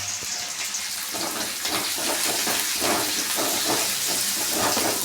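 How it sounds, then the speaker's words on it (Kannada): Chopped tomato and washed fenugreek greens hitting a hot pan for a gravy, producing a loud, continuous, close-up hiss of frying that stays dense and steady throughout. "ಇವಾಗ ಟೊಮೊಟೊ ಹಾಕೋತಾ ಇದ್ದೀನಿ. ಸೊಪ್ಪು ಹಾಕೋತಾ ಇದ್ದೀನಿ."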